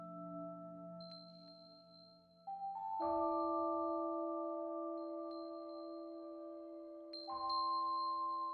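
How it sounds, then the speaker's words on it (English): A bell chimes in the video game Path to Nowhere, with sustained, ringing tones that step higher and ring out again later. The chime is clear and alone, with no talking. "Where the bell chimes, evil spirits retreat."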